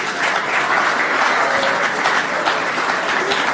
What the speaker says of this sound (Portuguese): Vamos dar cada de vocês mesmo um forte aplauso.